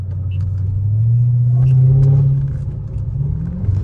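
A Dodge Hellcat's engine gives a loud, close, deep rumble that swells in the middle and then settles back to a steady idle-like growl.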